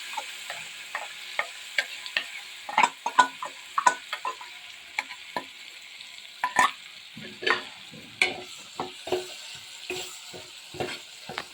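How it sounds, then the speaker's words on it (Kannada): Ground masala paste frying in a pan for dal, a soft sizzle punctuated by repeated sharp scrapes and taps of a spoon stirring against the pan, no talk. "अब इसमें हम पिसा हुआ मसाला डालेंगे"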